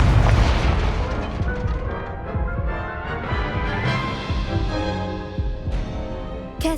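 Confringo blasting spell explosions from the Hogwarts Legacy video game, a run of booming, popping blasts over busy combat effects and music, loud and continuous.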